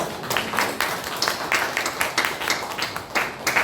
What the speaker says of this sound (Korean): 자, 우리 박수로 격려해